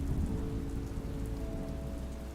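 Steady rain falls on a surface at a cozy coffee shop on a rainy night, a dense, continuous hiss and patter with a low rumble beneath, no voices.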